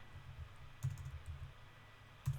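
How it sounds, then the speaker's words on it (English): Typing an email address on a computer keyboard: soft, quiet key clicks in uneven bursts, with a couple of slightly sharper taps standing out. "If I can type today."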